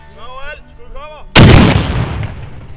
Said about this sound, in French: il y a ce fameux coup de canon qui indique le coucher du soleil